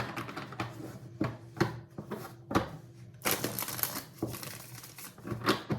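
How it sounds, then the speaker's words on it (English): Tarot cards being shuffled by hand, giving repeated papery riffles and soft slaps in irregular bursts, close and fairly quiet, with no talking. "Okay, we begin shuffling for Taurus."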